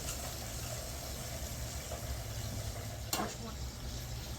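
Chicken wings fry in hot oil with a steady, close sizzling hiss and crackle, and one brief clatter partway through.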